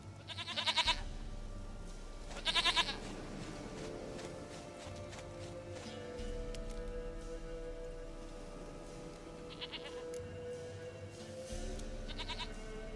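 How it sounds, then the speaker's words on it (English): A goat bleats in a farmyard in The Witcher 3: Wild Hunt, with several short, loud bleats spaced apart over a quiet background of soft rustling and light movement. "goat of mine, dearest, sweetest goat"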